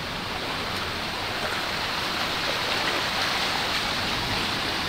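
Rushing seawater and large waves break along a shore with seashells, making a loud, unbroken wash of broadband noise with no pauses and no voices.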